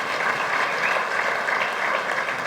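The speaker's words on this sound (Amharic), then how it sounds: "ሞቅ ያለ ጭብጨባ።" Warm applause from an audience at an evening cultural event honouring an artist, a dense steady clapping that holds at an even level throughout, close and full.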